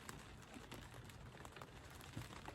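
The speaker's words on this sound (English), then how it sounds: "we've got rain on the roof" Rain falls on a shed roof as a faint, steady patter of dense drops, continuous and even throughout with no voices.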